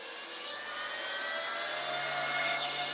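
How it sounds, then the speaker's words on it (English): Server fans spin up in a room, a steady high-pitched whirring roar that rises slightly in pitch and loudness, with a faint low hum underneath and no voices. "that's just the server fans powering up"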